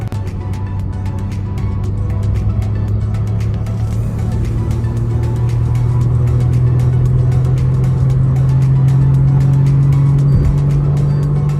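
A Toyota Taisor 2024 V-variant accelerates hard through second and third gear, its engine a loud steady drone from inside the cabin that climbs slowly in pitch, with road noise underneath.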